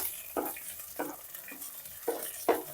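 Chopped shallots fry in a pan with ginger and garlic, a steady soft sizzle broken every half second or so by the scrape of a spoon stirring, close and moderately quiet.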